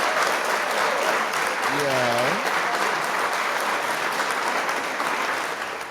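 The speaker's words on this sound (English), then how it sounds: "clap it up for y'all" Steady, dense applause from a studio audience at a talk show, running continuously at full strength with a short vocal exclamation over it, tapering slightly at the end.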